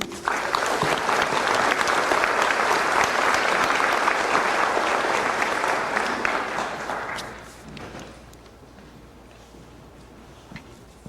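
A large audience at a Class of 2021 high school commencement claps loudly and steadily in sustained applause that welcomes the school board president, then fades over the last few seconds into a quiet room.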